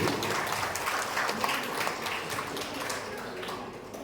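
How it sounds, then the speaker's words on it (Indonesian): At a school quiz final, an audience gives a dense round of applause, a steady wash of many hands clapping at even loudness from start to finish. "Kita kasih tepukan yang betul"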